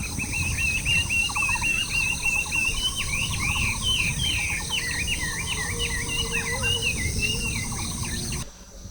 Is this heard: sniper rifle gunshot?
no